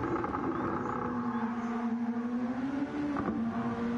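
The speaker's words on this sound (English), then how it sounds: "Car sounds amazing." A racing car engine in Gran Turismo 7, heard from the cockpit, drones steadily at high revs, its pitch shifting slightly as it holds a continuous, moderately quiet hum.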